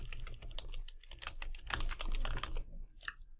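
Quick, irregular keystrokes on a computer keyboard while filling in a card in real-estate follow-up software, soft but steady, with a brief pause near the end.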